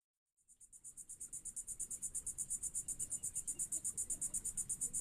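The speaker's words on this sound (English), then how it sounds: "We got crickets out there today, grasshoppers, it sounds like." Crickets chirp in a fast, steady rhythm of high pulses, close and clear against a quiet outdoor background.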